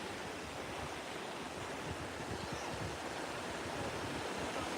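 Ocean surf washing onto Panama City Beach, a steady broad roar of waves with some wind noise, continuous and fairly loud with no voices.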